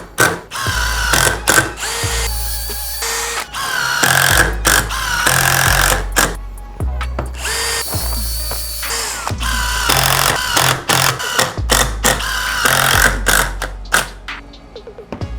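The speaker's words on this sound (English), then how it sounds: "now we're gonna do some pilot holes so the screws don't split the wood" A power drill bores pilot holes into wood in repeated bursts, the motor whining up loudly and stopping between holes, each run lasting a second or two.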